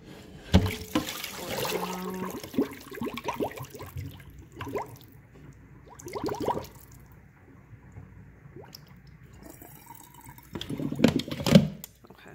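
Raw chicken being rinsed and swished under running water in a kitchen sink, with intermittent splashes, drips and wet squishing, busier at the start and again near the end.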